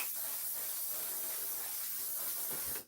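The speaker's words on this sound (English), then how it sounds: "I feel like I'm straight up putting hairspray on my face" Setting spray hisses in one steady, continuous burst as it is misted onto a face, close and fairly loud, stopping abruptly near the end.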